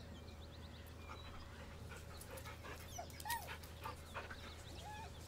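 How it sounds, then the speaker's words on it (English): Dog in the Baldur's Gate 3 video game panting softly and letting out several faint high whimpers, quiet and close over a low steady background hum. "The dog whimpers nervously, as if to urge you on."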